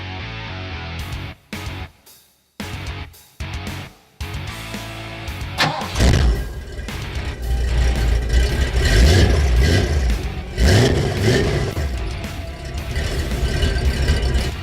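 A truck engine, just fitted and timed, with tailpipes still unmodified, fires up after a few sputtering mechanical clatters, then settles into a loud, close, steady run with rising revs and a faint squeal.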